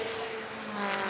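Historic Formula 1 racing car at the Goodwood Revival sliding through a chicane, a steady loud engine roar with a held tonal drone and slight tyre noise, continuous throughout.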